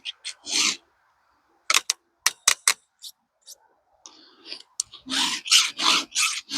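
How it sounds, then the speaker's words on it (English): A hand file rasps across the teeth of a 56-link chainsaw chain, giving several close, gritty strokes with quick ticks between them, then a faster run of strokes at the end. "I don't know how long it takes me to file a 56, but once I get my kind of rhythm going, I can do it pretty quick."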